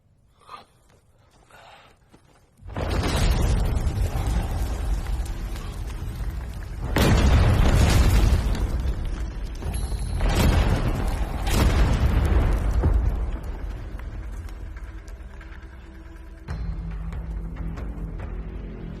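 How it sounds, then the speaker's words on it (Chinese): Explosives detonating underground in a drama scene: a sudden deep boom at about 2.7 seconds, followed by several more heavy blasts with sustained rumbling between them. No voices are heard. "有人在下面引爆炸药。"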